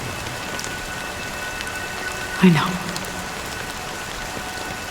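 Steady rain patters across surfaces in the video game Honkai: Star Rail, a constant soft wash that runs throughout, with a brief spoken voice cutting in near the middle.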